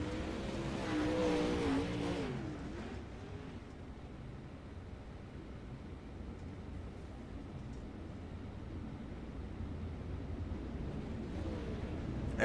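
Pro late model race cars roar away together on a restart at Weedsport dirt track, engines revving hard and loud at first, then settling into a sustained dense drone of the pack running on.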